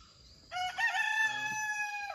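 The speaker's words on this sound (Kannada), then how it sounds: "ಕೇಳಿಸ್ತಿದೆ ಕೋಳಿ ಕೂಗೋದು" A single rooster crows clearly, a long rising and held cock-a-doodle-doo, fairly close against a quiet background.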